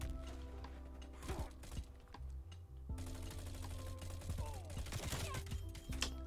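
Rapid gunfire bursts in Call of Duty Cold War, loud dense volleys of shots rattling continuously, with a brief lull midway before the firing resumes.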